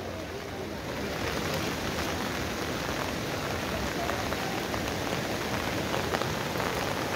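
Heavy rain pours steadily during flooding in Kathmandu near the Dhobi Khola river bridge, a dense, continuous hiss of drops on surfaces mixed with rushing water, loud and unbroken throughout.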